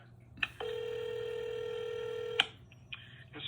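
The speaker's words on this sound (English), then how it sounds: "Transferring to David Olsham." Telephone transfer tones on a call line during an unemployment appeal hearing: short beeps, then a steady sustained tone lasting nearly two seconds, followed by a couple more brief beeps, clear and alone with no talk.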